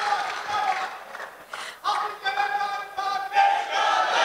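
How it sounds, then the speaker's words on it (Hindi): An audience at the 5th Multan Literary Festival 2024 applauds the poet Tehzeeb Hafi: dense, close clapping and crowd noise that swells in waves, with voices and cheers mixed in throughout. "जोरदार तालियां होनी चाहिए भाई थापी के लिए"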